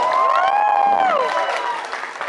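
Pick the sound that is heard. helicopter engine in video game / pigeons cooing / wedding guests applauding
wedding guests applauding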